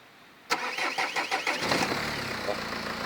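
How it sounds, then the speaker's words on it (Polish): A car engine is started using a small Whistler jump-and-go jump starter: a sudden loud cranking with rapid rhythmic pulses for about a second, then the engine catches and settles into a steady idle, close up. "jak widać nam odpalił tylko na tym małym urządzeniu"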